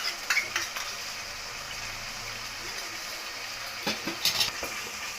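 Curd being stirred into tomatoes frying in a pan for bagara rice, a low steady sizzle with a few sharp scrapes and clinks of a spoon against the pot near the start and end.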